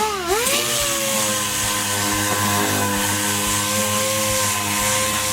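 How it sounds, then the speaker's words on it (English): A DA sander with 80-grit paper works over body filler and fiberglass repairs, spinning up quickly and then holding a steady, moderately loud whirring drone with no voices. "we're going to take our D8 with some 80 grit, get everything sanded down to see exactly where the filler needs to go"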